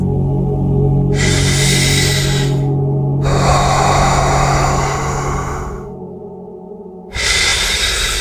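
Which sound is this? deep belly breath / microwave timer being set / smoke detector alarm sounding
deep belly breath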